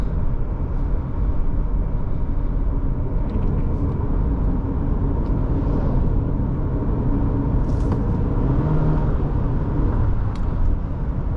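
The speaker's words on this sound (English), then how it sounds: "So driving here on the back roads, this Forester feels very nice." A 2024 Subaru Forester Wilderness cruising on back roads, heard from inside as a steady low road and engine rumble with tyre noise, unbroken and even throughout.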